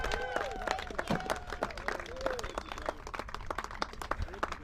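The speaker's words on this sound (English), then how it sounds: "how about a round of applause for our letter carriers," A crowd at a San Diego rally in support of the U.S. Postal Service applauds letter carriers, with dense clapping mixed with cheering and raised voices at moderate distance.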